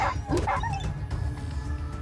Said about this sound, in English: you hear a dog yelping and humans screaming insults from a huge distance